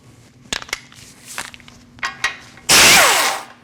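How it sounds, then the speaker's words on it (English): A Jeep Cherokee lower ball joint nut being removed: a few light metallic clicks and taps, then a loud, sustained burst of power-tool whirring and grinding near the end, close to the mic. "We're going to take off this lower ball joint nut."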